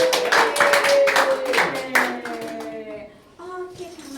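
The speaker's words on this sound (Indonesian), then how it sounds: "Tepuk tangan dulu dong buat" A university peer-teaching class gives a quick burst of brisk hand clapping lasting about two seconds. Voices hum and call out alongside it, then the sound settles into sustained vocal tones.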